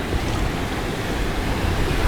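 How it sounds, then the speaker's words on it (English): Big ocean waves in Bali surge and roar as a steady, loud wash of surf with some wind noise on the microphone, and no voices. "look how big these waves are"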